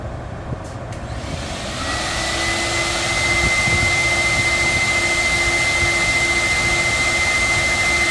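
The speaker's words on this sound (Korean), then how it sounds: "청소기 켜겠습니다." A vacuum cleaner switches on and runs steadily for car interior carpet cleaning during a steam car wash, rising from a low start to a loud, constant whine with a high tonal hum.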